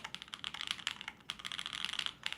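Rapid typing on an FLX Virgo mechanical keyboard with no foam inside, close and crisp clacking in quick uneven bursts with short pauses between runs.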